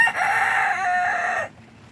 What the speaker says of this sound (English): The rooster that's in here is the one that's being chased.